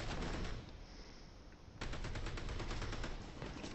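Dense, loud automatic gunfire rattles nearly nonstop in a first-person shooter game, with a short dip in the middle before the firing surges back up.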